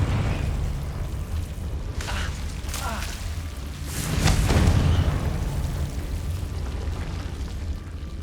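A Confringo fire spell bursts in the video game Hogwarts Legacy, a rumbling explosion that swells and fades over a constant low game background, with a few sharp effects before it.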